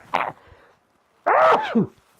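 A short burst followed by a loud, close sneeze, with a brief pause between them and quiet afterward.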